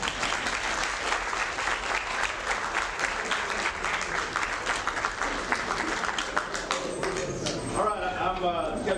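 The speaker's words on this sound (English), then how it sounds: "So let's give them all a round of applause." A crowd at a football program applauds the players in a long, moderately loud stretch of clapping, with some talk mixed in before the clapping thins toward the end.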